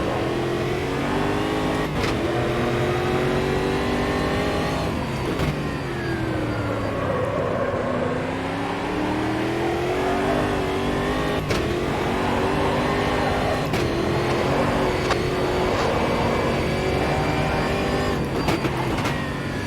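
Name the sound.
race car engine revving in video game Automobilista 2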